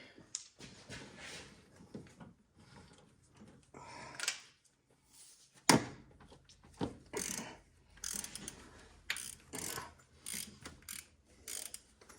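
An 11/16 ratchet wrench loosening a bracket bolt during a manual steering rack installation, heard as repeated bursts of rapid close clicking separated by short pauses, with occasional metallic clanks and no talking.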